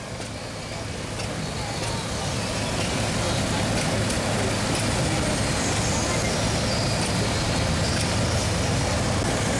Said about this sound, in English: And there's the traction engine.